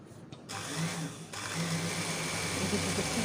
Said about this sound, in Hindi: और इसके ऊपर एक और स्टिच दे दूँगी ताकि ये पक्का हो जाए कि यहाँ से खुले ना।